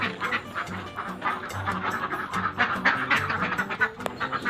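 A flock of ducks on an egg-laying duck farm, with many overlapping quacks in a dense, busy chorus, loud and near, and no talking.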